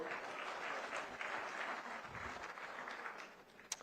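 An audience at an Africa-Asia luminary conference in Banjul, The Gambia breaks into steady applause, a dense wash of clapping at moderate level that thins out toward the end.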